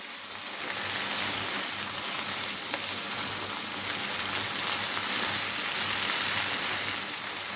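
Okra (bhindi) frying uncovered in a kadhai over a low gas flame, a steady close hiss and crackle like light rain that holds constant throughout with no talk.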